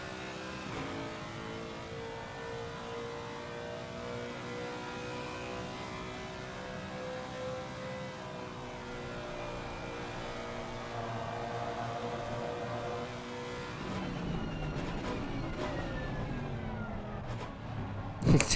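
A Lexus race car engine screams around Suzuka in Assetto Corsa Competizione, a steady high-revving harmonic drone that holds throughout and swells louder with a rough burst near the end.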